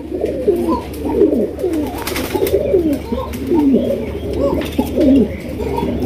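Several pigeons in a breeders' loft coo repeatedly in rolling, overlapping calls, loud and close, over a low steady hum and occasional faint background voices.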